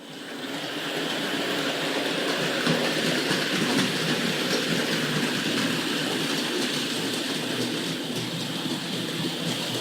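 A Hornby Dublo model freight train with a rake of wagons runs along the track, a steady close whirring rattle and clatter that swells in and holds without talk.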